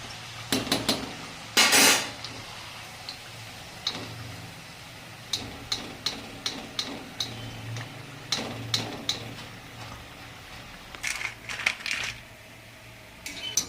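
A slotted spoon clinks against a metal pan while fried jaggery kapanya are lifted out of hot oil, making scattered sharp metallic taps and scrapes at irregular intervals over a faint sizzle.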